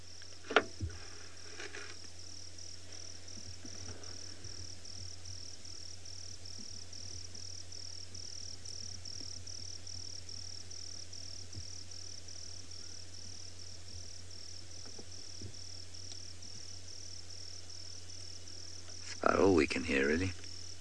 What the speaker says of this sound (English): We can hear a couple of crickets.